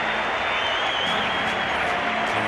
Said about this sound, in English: the crowd giving him a big hand for his half century